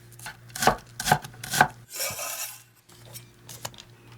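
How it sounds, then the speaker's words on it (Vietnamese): A knife minces a purple shallot on a cutting board with a run of crisp, close chops: three loud strikes, then a brief scraping sweep and softer, scattered taps. "Còn lại một củ hành tím các bạn băm nhỏ."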